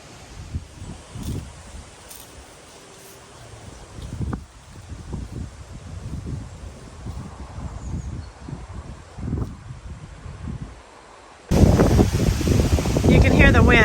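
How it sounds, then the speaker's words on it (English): Wind blows outdoors near a fenced property, gusting in uneven low rumbles that swell and fade, then turns sharply louder and harsher for the last couple of seconds; no one speaks. "You can hear the wind"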